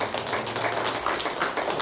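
Congregation at a Sunday church service clapping in encouragement for the choir, a dense spread of many hands close by, steady and continuous for the short span.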